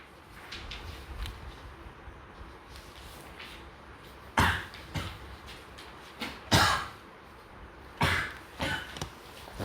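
A person coughing indoors, several harsh bursts in clusters, some single and some doubled, close and fairly loud against a quiet room background.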